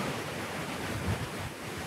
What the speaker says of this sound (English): I did not think it was gonna be this windy out here, but it is windy.